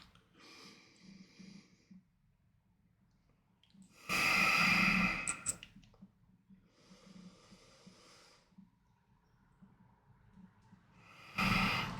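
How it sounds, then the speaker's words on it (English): Slow, deliberate nasal breaths during alternate nostril breathing practice in a meditation session, with a soft inhale and exhale, then two loud forceful rushes of air close to the microphone, separated by quieter breathing. "Next, you practice alternate nostril breathing."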